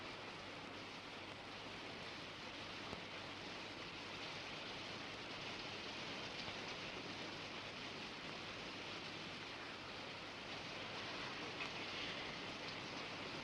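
Steady heavy rain pours in a continuous, even hiss throughout, with no distinct thunder claps standing out.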